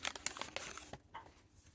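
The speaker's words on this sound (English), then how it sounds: "I'm going to open up another 1988 Topps football sticker pack." Close, crisp tearing and crinkling of a 1988 Topps football sticker pack's wrapper, a quick burst of ripping that stops abruptly and gives way to a few faint rustles.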